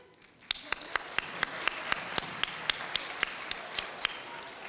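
Sparse, slow audience clapping at an all-district school chorus concert, about a dozen crisp, fairly evenly spaced claps that sound like a single nearby pair of hands over a quiet hall.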